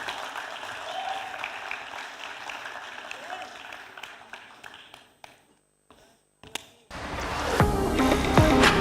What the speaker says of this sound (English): please put together a round of applause for Anupam Chawla